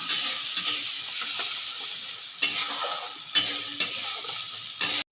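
Onion paste with green chilli, garlic and ginger hits hot oil in a pan for katla fish curry, giving a steady close sizzle broken by several sharp louder hisses and stirring scrapes, with no voices.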